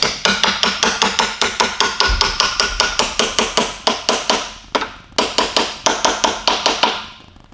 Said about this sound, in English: you can just use your little hammer again